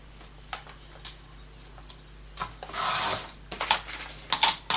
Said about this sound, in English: So let's just cut the excess here.